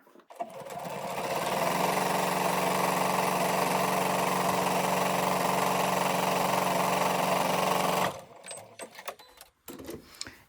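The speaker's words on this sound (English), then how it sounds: "And now I'm going to sew on the outside edge" A sewing machine runs continuously for about eight seconds as it stitches the outside edge of a quilt-block cushion cover. The motor hum is steady and close, then stops and leaves faint handling noises.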